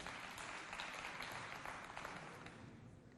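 A neighborhood-center audience claps for a performer at a youth holiday show, with a fairly faint, continuous round of applause that holds steady and then tapers slightly toward the end.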